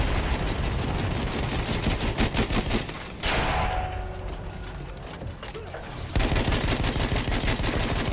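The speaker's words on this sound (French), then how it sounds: "Mitrailleuse ennemie, par là." Rapid machine gun fire in the Battlefield 1 video game rattles in dense, loud bursts, pausing briefly in the middle while a voice speaks, then resuming at full intensity.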